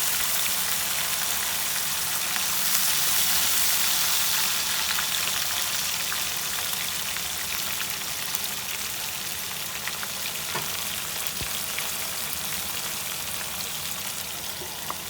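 Ground onion paste with ginger, coriander, ground chillies, turmeric and salt frying in a pan, a steady close sizzle that holds at an even level throughout with faint stirring crackles and no talk.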